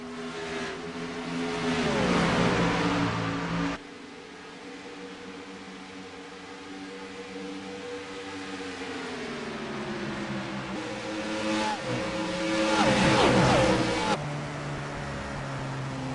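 A pack of sim race cars in rSeat Sprint Cup Series racing at Las Vegas drones steadily at moderate distance, engine tones rising and falling as the group sweeps past with swelling passes.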